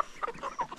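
Village chickens clucking, a few short soft clucks in quick succession, close but faint, with no talking.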